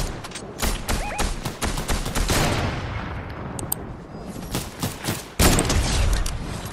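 Rapid bursts of gunfire crack out in a Fortnite squads match, with loud volleys of repeated shots, brief pauses between strings, and a heavy final burst near the end.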